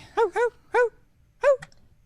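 A man mimics a dog in an improv acting class, giving three quick woofs in a row, a pause, then one more woof, close to the mic.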